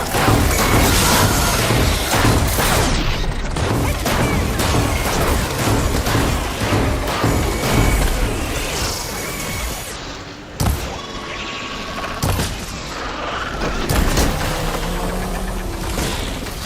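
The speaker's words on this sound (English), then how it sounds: "Hey, big explosion!" Loud booming blasts and crashing debris from an explosion in the video game Horizon Forbidden West: Burning Shores, dense and sustained, with sharper impacts near the end.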